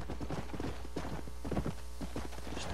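Horse hooves clip-clop at a steady walking rhythm in Red Dead Redemption, played on Xbox 360, close and clear over a low ambient hum.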